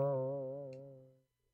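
A single springy boing effect standing in for a heartbeat, a wobbling harmonic tone that holds for about a second before fading out, heard alone.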